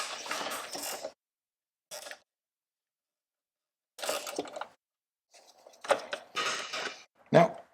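A 3/8 ratchet loosens two screws on a Road Glide motorcycle module, giving short close bursts of clicking and rasping with silent gaps between them.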